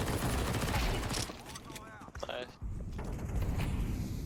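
Submachine gun fire in a tactical shooter game, with loud, dense bursts of rapid shots filling most of the moment, a short lull in the middle, then more firing, with a voice talking over it.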